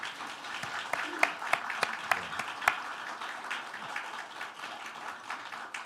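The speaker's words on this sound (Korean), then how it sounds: "꽃다발 나오는 시간이 있어서 박수를 더 쳐줘야 될 것 같습니다" A church congregation claps steadily in rhythm to welcome a new pastor while flowers are presented. Sharper claps stand out early, then the applause thins into a softer patter with a murmur of voices beneath.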